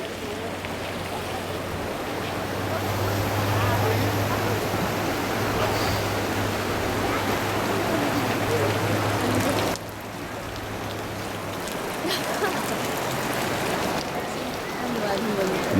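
River water rushes steadily beside hot springs in a constant broadband wash. A low hum sits underneath for much of the time, and the flow drops slightly in level partway through.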